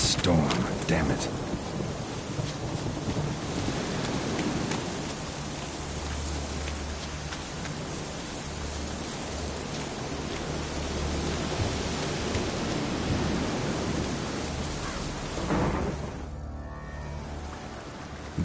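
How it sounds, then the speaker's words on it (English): Thunderstorm in The Witcher 3 game world, with steady rain hiss and low rolling thunder rumbling throughout, loud and continuous, a brief dip near the end. "A storm, damn it."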